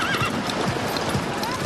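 Runaway wagon horses whinny and neigh amid clip-clopping hooves and a continuous rumbling din, a busy, sustained commotion with no talk.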